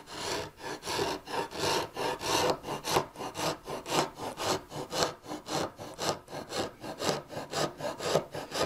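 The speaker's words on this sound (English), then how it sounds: "I can put a little sandpaper on there and work these a little bit." Sandpaper wrapped on a shaped sander form works back and forth over the reeds of a wooden Sheraton chair leg, a close, steady rhythmic rasping of about two strokes per second with no talking.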